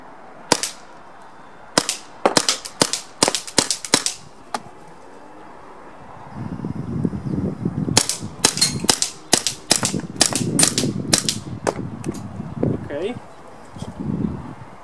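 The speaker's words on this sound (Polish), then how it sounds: "Pierwsze 10 strzałów w tryb pojedynczy." A string of sharp single shots from a KWC Mauser M712 airsoft pistol snaps out at irregular intervals, close by, with someone talking under the later volley.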